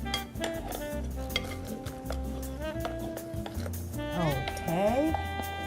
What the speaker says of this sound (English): I'm going to pour this into the pot, and you just take and stir it around as best as you can.